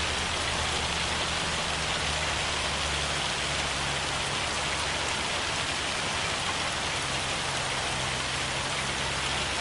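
Steady rain falls in the Farming Simulator 25 game world on the Elm Creek map, a constant dense patter on surfaces with a low rumble underneath and no voices.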